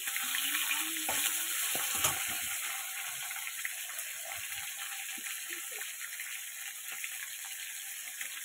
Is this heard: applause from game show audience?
no